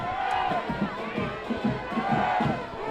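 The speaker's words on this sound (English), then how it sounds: "You can hear the crowd chanting defense" Fans in the stands at a high school district championship football game chant and roar, a rhythmic crowd chant repeating under a steady din of noise, heard from a distance.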